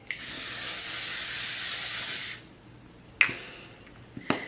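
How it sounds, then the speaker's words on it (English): L'Oreal Infallible makeup setting spray releases one long, steady pressurized hiss for about two seconds, close to the mic, then stops, followed by a couple of sharp clicks and taps as the bottle is handled. "To set all of my makeup, I have the L'Oreal Infallible Setting Spray."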